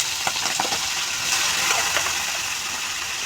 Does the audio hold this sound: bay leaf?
yes